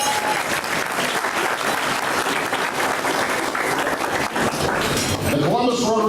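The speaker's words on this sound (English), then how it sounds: "This is where the thunderous applause comes." Thunderous audience applause at a school service fair, dense sustained clapping filling the whole stretch with a few light clinks and faint voices mixed in.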